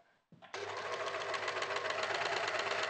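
An overlocker stitches a rolled hem on white fabric, starting abruptly after a brief quiet moment and then running as a loud, steady, fast mechanical whirr and rattle close by.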